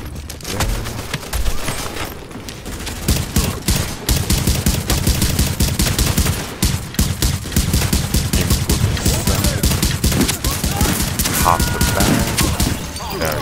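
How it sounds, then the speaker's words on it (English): Shotgun fire in The Division video game: dense, rapid bursts of loud blasts run almost continuously, with heavy overlapping impacts throughout. "Shotgun."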